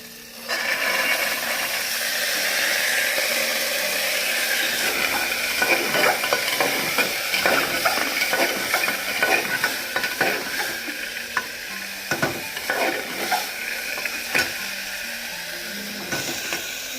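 Breakfast ingredients for a village-style desi meal are mixed and cooked together in a pan, giving a steady sizzle with repeated scraping stir strokes and clinks close up, with no talking.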